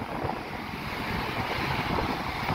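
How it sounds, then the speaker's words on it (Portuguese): Wind gusting steadily at the seafront by Avenida Ayrton Senna in São Vicente on a cloudy day with rough sea, a continuous broadband rush of wind noise and surf with no pauses. "Tá ventando aqui São Vicente"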